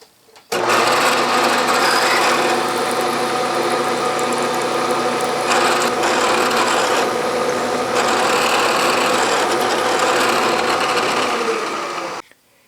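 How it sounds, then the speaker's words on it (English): A steady, loud machine whir of a 15/64 drill bit drilling metal continuously for about twelve seconds, with a slight shift in tone midway, then stopping abruptly. "This is a 15/64 drill bit."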